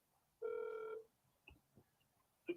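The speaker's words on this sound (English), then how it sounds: "You hear my phone ringing?" A phone rings once in a short electronic tone in a quiet room, followed by faint scattered beeps, with no talk over it.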